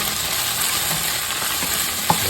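Garlic and onions sauté over medium-high heat in a pan for a bitter melon and beef stir fry, a steady close sizzle with a single light clink near the end.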